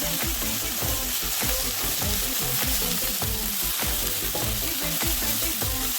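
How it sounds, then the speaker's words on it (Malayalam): Shallots frying in hot coconut oil, a dense, loud, steady sizzle with rhythmic spatula scrapes and stirs throughout, up close with no voices. "വെളിച്ചെണ്ണയിലേക്ക് നമ്മൾ ചെറിയ ഉള്ളിയാണ് ആദ്യം ഇട്ട് കൊടുത്തിരിക്കുന്നത്. നമുക്ക് നന്നായിട്ട് അതൊന്ന് വഴറ്റിയെടുക്കാം."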